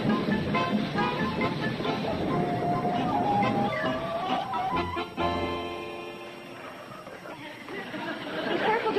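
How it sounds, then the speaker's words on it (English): A train rumbles and rattles steadily in a station while a crowd chatters nearby, the noise easing briefly before building again. "Come on, Uncle Joe, the train's in"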